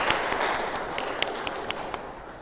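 A group of participants claps for a fellow attendee during a pharmacy lecture, brief dense applause with a few sharp individual claps standing out.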